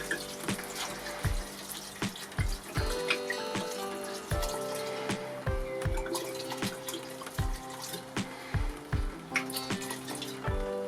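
Red wine glugs from a bottle into a pot while beef bourguignon cooks on a Kamado Joe Jr, with repeated rhythmic gurgling pulses and a liquid splash, close and clear, no talking.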